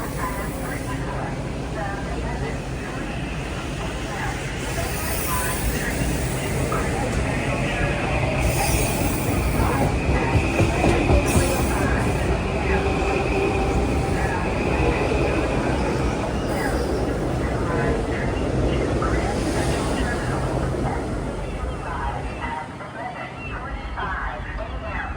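A Metro-North Kawasaki M8 electric train rumbles past steadily on the corridor between Bridgeport and New Haven, with a loud, broad roar of wheels and motors and a brief horn tone on top, sustained for the whole stretch.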